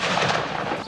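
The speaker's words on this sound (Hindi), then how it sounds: "इस्लामाबाद में 31 तोपों की सलामी दी गई।" Booming artillery fires a ceremonial gun salute in Islamabad on Pakistan Day, a heavy rumbling blast that fills the whole brief moment at close, loud range.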